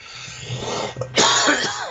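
A person coughs and clears their throat, a rough throaty hack followed by a louder burst of harsh coughing, close up.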